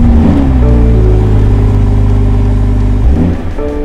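A 2021 BMW 440i without the M Sport exhaust starting up, a loud low engine rumble that flares briefly then settles into a smooth steady idle, close and alone.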